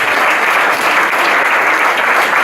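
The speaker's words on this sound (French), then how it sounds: "je voudrais qu'on les applaudisse un peu" An audience at the 2015 Patro festival applauds the winning parents' team of a football tournament, with steady, dense clapping that holds evenly for the whole stretch and no voices over it.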